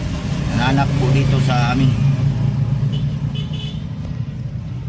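A Suzuki F5A engine with a worn, noisy cylinder head and camshaft runs at a steady low rumble throughout, with someone talking over it.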